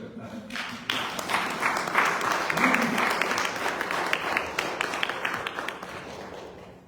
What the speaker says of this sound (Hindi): रजनी जी को तालियां बजाने में कौन लीड कर सकता है